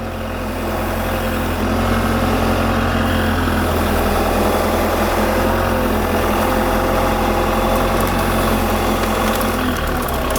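Loader fitted with a 4-in-1 grapple bucket driving among fallen limbs, its diesel engine rumbling steadily and loud, with a continuous low drone and vibration throughout and no talk.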